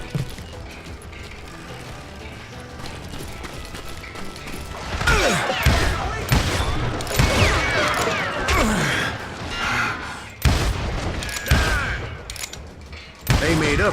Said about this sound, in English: Someone shoot that bastard!